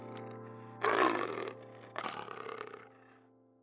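A fantasy griffin creature lets out two loud, rasping roars, the first sharper and the second longer and trailing off, over a faint steady hum with no talking.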